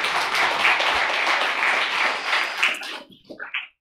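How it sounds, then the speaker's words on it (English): Church congregation applauding during a Sunday Holy Eucharist service, a steady wash of many hands clapping for about three seconds, then tapering off into a few scattered claps. "yes, a round of applause."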